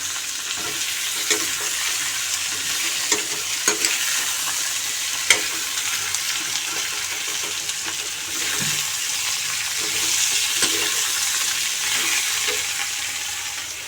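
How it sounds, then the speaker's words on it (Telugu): Potatoes go into a pan of onions already browned and frying for a cauliflower curry, giving a steady close sizzle with scattered clicks and stirring knocks and no talking. "రెడ్డిస్ వచ్చిన తర్వాత ఆలు వేస్తున్నాను"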